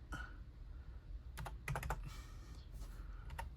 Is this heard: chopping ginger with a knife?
no